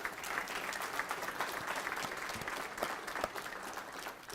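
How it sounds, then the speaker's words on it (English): A crowd at a college convocation applauds, a full, even wash of many hands clapping with scattered sharper claps standing out, sustained throughout without talk. "Let's give them a big round of applause."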